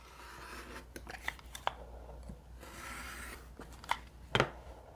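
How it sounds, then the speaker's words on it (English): Rotary cutter or scissors trimming the remaining two sides of a quilt block for split half-square-triangle stars and stripes: quiet, scattered crisp cuts and snips with soft rubbing between them, close up, no talking. "I'm going to trim the other 2 sides"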